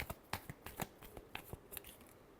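Tarot cards are shuffled in a quick series of crisp riffling snaps, about a dozen sharp bursts in an irregular rhythm, close and fairly quiet with no voice over them.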